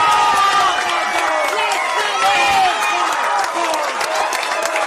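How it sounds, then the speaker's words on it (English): Football crowd at a South Hobart versus Kingborough Lions NPL match cheering after a South Hobart goal, a loud, sustained roar of shouts and whistles from the stands with scattered clapping and excited calls throughout. "the crowd and the South Hobart team celebrate with aplomb"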